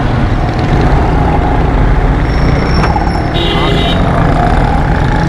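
Heavy street traffic at Pakistan Chowk in Karachi, with trucks, buses and motorcycles streaming past in a dense, continuous rumble. A brief air-brake hiss cuts through, and voices talk over the din.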